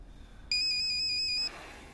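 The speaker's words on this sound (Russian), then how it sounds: "Не отвечайте на телефон, отключите его." A mobile phone ringtone plays for about a second, a bright repeating electronic melody of short beeping tones that starts abruptly, then cuts off into quiet room noise.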